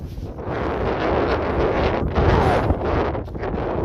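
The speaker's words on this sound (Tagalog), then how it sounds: "Snowstorm! Ganyan ang sitwasyon natin dito ngayon." Snowstorm wind in Ilulissat, Greenland, roaring and gusting hard across the microphone in a dense, loud, continuous rush with brief surges.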